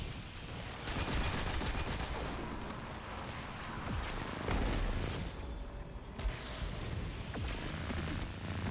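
Rapid automatic gunfire from the Thunderlord machine gun in the video game Destiny 2, dense bursts with booming impacts and explosions in a chaotic firefight, no speech.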